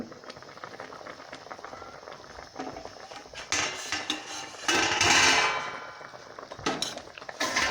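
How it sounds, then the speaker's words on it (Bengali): Metal pot lid lifted off a cooking pot of mustard hilsa (sorshe ilish), a few clanks and scrapes building into a louder bright clatter midway, with soft simmering underneath. "বন্ধুরা, ঢাকনাটা খুলে দিচ্ছি।"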